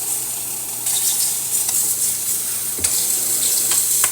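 A steady, hissing rush of steam from an espresso machine steam wand, with faint gurgling and sputtering, continuous and fairly close, with no talking.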